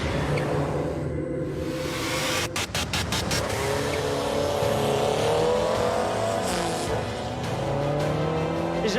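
A Renault R5 Alpine Turbo drives with a rising, revving engine note, shifting up through gears, and a brief burst of rapid clicks early on; the engine stays fairly close and steady throughout.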